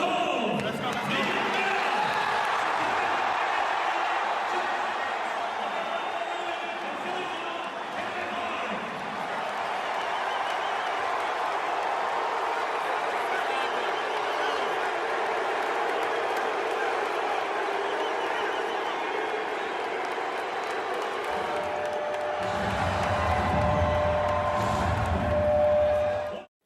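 A hometown arena crowd at a Sixers game cheers and welcomes a rapper with a sustained, distant roar and scattered applause, under voices talking.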